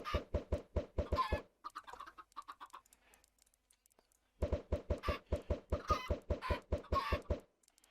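Chickens in a Minecraft Create Mod egg farm cluck in quick rhythmic bursts, loud and close, with a short quieter gap midway before another run of repeated clucks.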